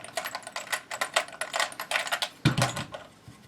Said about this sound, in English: Here I'm going to remove the screw